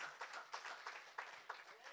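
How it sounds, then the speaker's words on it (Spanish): Congregation applauding during a church service, a quiet, scattered patter of claps with a few sharper accents, heard faintly at a distance. "Vamos a darle un fuerte aplauso al Señor por esto."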